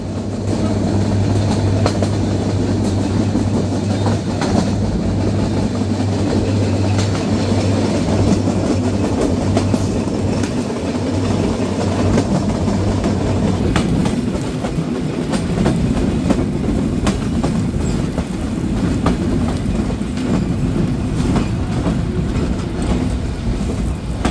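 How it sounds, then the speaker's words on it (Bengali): The Kapotaksha Express train rumbles across the Hardinge Bridge in Bangladesh, a loud continuous roar with rhythmic clattering of wheels on the steel span, steady for the whole stretch without any voices. "আর এরই সাথে যখন ট্রেনটি হার্ডিংস ব্রিজ ক্রস করে যায়"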